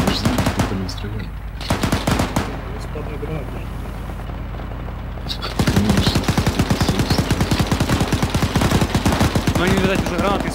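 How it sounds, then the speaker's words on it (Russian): Machine gun fire in the video game Iron Front comes in scattered shots, then turns into a dense, rapid, sustained burst halfway through. It is loud and close, with voices faintly present. "По нам сбоку стреляли там с высоты, или кто-то стрелял?"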